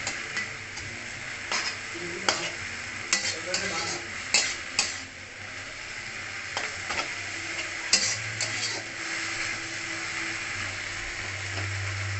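Jute leaves fry in a pan with a steady, soft sizzle, punctuated by repeated scraping and tapping clicks from stirring against the metal.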